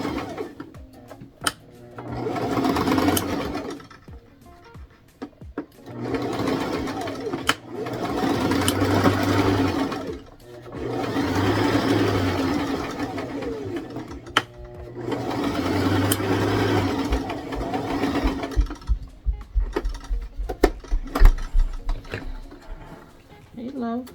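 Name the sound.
sewing machine doing backward stitches on a tutu anklet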